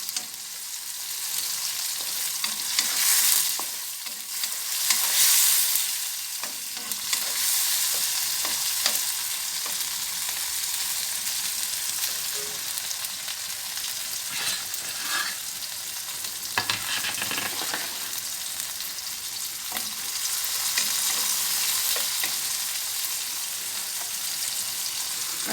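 Pork cubes fry and get stirred in a pan, giving a steady close sizzle with occasional louder bursts of spattering and scraping throughout; no one speaks.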